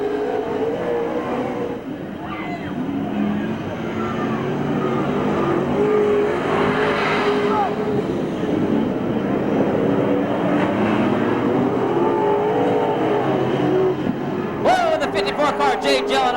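Street stock race cars circle Merced Speedway in a continuous loud drone of engines that rises and falls as cars pass, with a commentator talking over it throughout.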